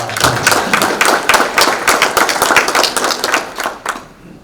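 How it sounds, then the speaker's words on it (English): Applause from a full room at an annual general meeting, a steady burst of many hands clapping close and loud for about four seconds before tapering off. "round of applause to the Cal North"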